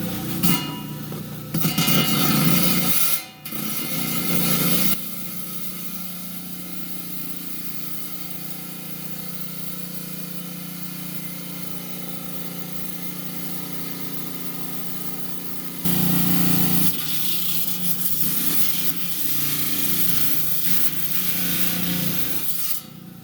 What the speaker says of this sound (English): it took me over a minute to cut this rock